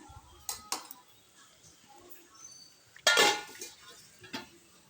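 A lid set down on a pot of boiling green mangoes gives one loud, close metallic clank, surrounded by a few lighter clinks of utensils in a quiet kitchen.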